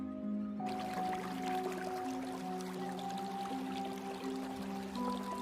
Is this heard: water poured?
yes